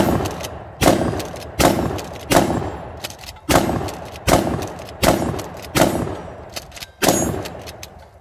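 A Mossberg 590 shotgun firing nine 12 gauge birdshot rounds, sharp loud blasts spaced evenly under a second apart, each trailing off in a short ring before the next.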